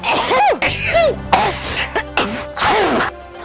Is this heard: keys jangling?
no